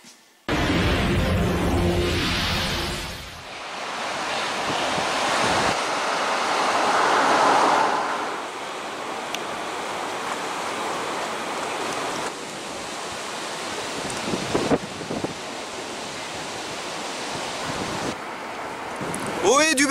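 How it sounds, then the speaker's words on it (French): Heavy rain and gusting wind outdoors beside a river, a constant loud rushing wash with buffeting wind on the microphone, under occasional speech. "On a de la pluie et du vent."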